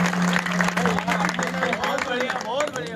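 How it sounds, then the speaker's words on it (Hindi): An audience at a Hindi poetry recitation applauds, a brief dense burst of clapping mixed with crowd noise and voices. "एक बार जोरदार ताली बजा दो।"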